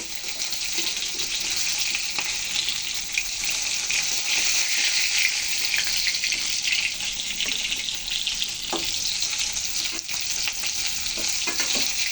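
Japanese puti fish frying in hot oil makes a steady, close, crackling sizzle that lasts the whole stretch, with scattered sharper pops and no voices.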